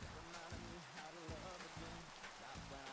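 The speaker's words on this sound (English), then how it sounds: "Oh, the rain's stopping." Steady rain in Minecraft with the Ancient Warfare 2 mod, a soft continuous hiss with light pattering at low volume, with a voice talking over it.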